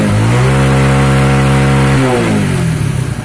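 Old-model Hero Honda motorcycle engine revving up close, a loud steady raised rev for about two seconds that then drops back and settles toward idle, with no voices.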